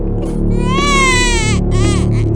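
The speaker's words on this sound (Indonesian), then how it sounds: "Suara bayi itu muncul lagi." A baby cries loudly in a horror story, with rising and falling wails sustained over a low ambient background, then a shorter second cry near the end.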